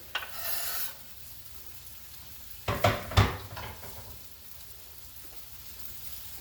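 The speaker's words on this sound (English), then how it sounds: "Here's that onion I cut up. Drop it in." Chopped onion drops into a hot pan while making lasagna. Two quick loud sizzling bursts land close by, after a faint earlier rustle, then fade to near quiet.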